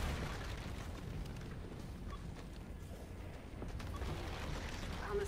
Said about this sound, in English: God, there's so many explosions.